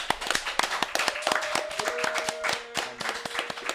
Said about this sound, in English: Can we clap it up for Kalia, please?